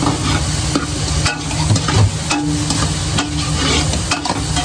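Pork sautés in a pan, a loud close sizzle broken by repeated scraping and stirring strokes of a utensil against the pan.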